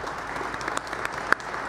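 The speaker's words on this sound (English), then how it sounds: "Let's give them a big round of applause" An audience applauds at a lifestyle and fitness tour panel event, a steady, dense wash of clapping hands that holds at an even level throughout.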